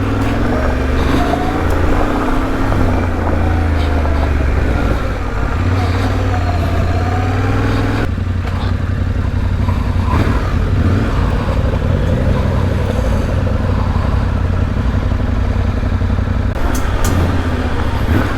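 A Yamaha Tenere 700 adventure motorcycle rides a rough off-road trail toward a waterfall, its engine droning loud and steady with shifting revs and wind noise, while a rider talks over it.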